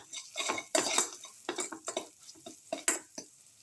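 A spoon stirs chili powder into a garlic, coconut and tomato dip casserole, giving close, repeated scraping clinks against the pan in an uneven rhythm, with no talking.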